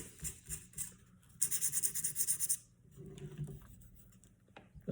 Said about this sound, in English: take a lot of effort to sand it down, so it's nice and level